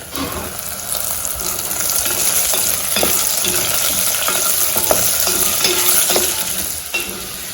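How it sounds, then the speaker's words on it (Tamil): Steady frying sizzle of pumpkin pieces in a pan with occasional stirring scrapes and clicks, continuous and fairly close, no talking. "இப்போ இது கொஞ்சம் வதங்கிடுச்சு நான் பரங்கிக்காய் போடுறேன்"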